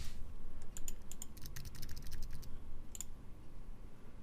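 Fingers type a password on a computer keyboard, producing a quick cluster of light key clicks followed by a brief pause and a last few taps, close and clear over faint room hum.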